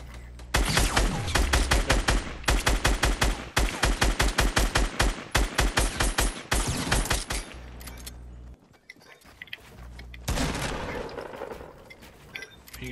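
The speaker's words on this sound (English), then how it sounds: "Are you getting shot at yet?" Rapid bursts of automatic gunfire in a duos shooter video game, loud and close, firing in long rattling strings with brief pauses, then a short lull before another dense burst.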